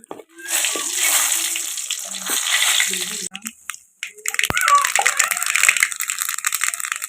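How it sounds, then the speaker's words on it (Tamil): Dried red chilies crackle and sizzle in hot oil while tempering village-style sambar, a loud hissing fry with sharp pops, a brief quieter break, then renewed vigorous sputtering. "மிளகாய் நல்லா வெடி"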